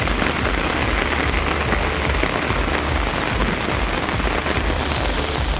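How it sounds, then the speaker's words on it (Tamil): Heavy rain pours steadily across a hill district, a dense, even roar of drops hitting surfaces with no pauses, loud and close throughout. "மாவட்டத்தின் பல்வேறு பகுதிகளில் கனமழை பெய்தது"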